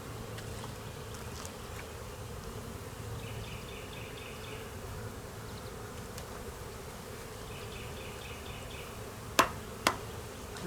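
Honeybees droning softly around a hive in January, a continuous low hum close by, with two sharp knocks near the end.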